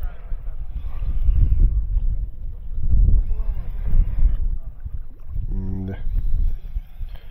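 Strong outdoor wind buffets the microphone in heavy low rumbling gusts that surge and fade, with voices talking over it.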